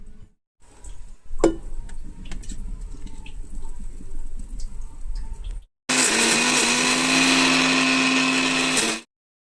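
Cooled roasted peanuts are dropped into a mixer grinder jar with rattling clatter, then after a short pause the grinder runs loud and close for about three seconds, a steady high whirring roar that stops abruptly.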